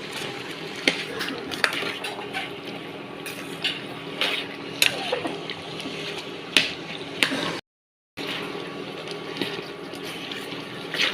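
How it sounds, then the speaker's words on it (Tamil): Chicken gravy being stirred in a pan: repeated metal scrapes and clinks of a spoon against the pan over a soft bubbling simmer, with a short gap of silence before the clinking resumes. "நல்லா கிண்டி விட்டுணும்."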